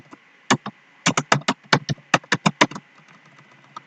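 Computer keyboard typed on while writing code, a quick irregular run of about a dozen sharp, close key clicks in bursts, then trailing off into quiet.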